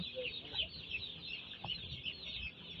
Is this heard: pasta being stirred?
no